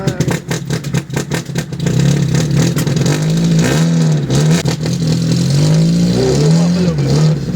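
An AC Cobra replica's Ford 2.0 Pinto engine cranks on a dyno with a rapid starter chatter, then catches and roars loudly, its revs rising and falling while running close up.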